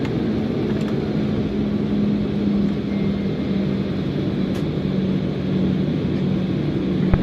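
JetBlue airliner taking off from Nantucket runway 24, a steady, even roar of jet engines heard from inside, continuous and loud with no voices.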